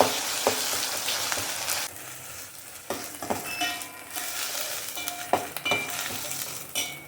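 Ginger garlic paste frying in a pan for fish curry, a loud close sizzle broken by bursts of stirring and scraping, with no talk.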